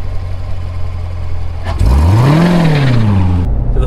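A Chevrolet C7 Corvette Z51 on the road, its engine droning steadily before surging into a loud rev whose pitch climbs and then falls as it accelerates away, with no talking.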